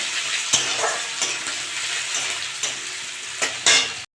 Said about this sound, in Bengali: আমি এবার পেঁয়াজ দিয়ে দেবো। একটু ভেজে নেবো।